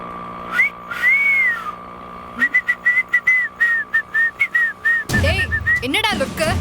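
A person whistles in a Tamil TV drama scene, first two rising-and-falling whistles, then a quick run of short rhythmic chirps, ending in a louder burst of noise and a final wavering whistle, loud and close.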